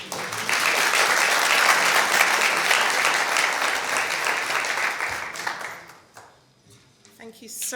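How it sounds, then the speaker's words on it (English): An audience at a health awareness workshop applauds after a talk, loud sustained clapping from many hands that fades out near the end, followed by a brief lull and a little voice. "Could we give him another clap?"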